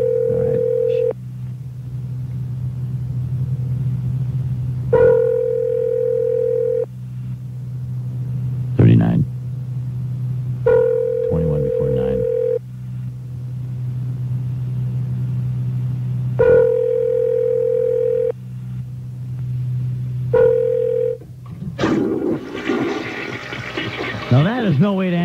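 A telephone line repeats short electronic tone bursts at regular intervals over a constant low dial-tone hum while a call is placed back, ending with a noisy, rustling stretch.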